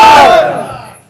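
A crowd at a religious gathering roars a Takbeer slogan back in unison, one loud massed shout that swells at once and fades away within about a second.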